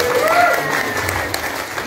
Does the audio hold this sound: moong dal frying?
no